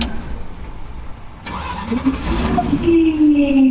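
The engine of a Burnout Pacer, a car that had been making a whop-whop noise, cranks and restarts after a quiet pause. It rises into a steady idle with a nearby whine, close and clear, with no talking.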